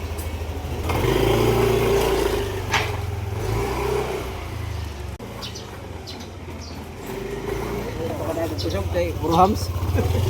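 A Yamaha Nmax 155 V2 scooter engine idles steadily nearby, a low continuous hum that dips and recovers as if close to stalling, with people talking over it.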